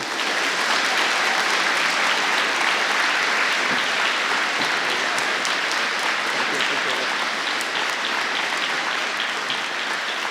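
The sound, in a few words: audience applause at rally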